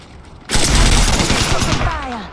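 Sustained automatic gunfire in Apex Legends, erupting loud and close at half a second into a dense, rapid burst that runs to the end with no let-up.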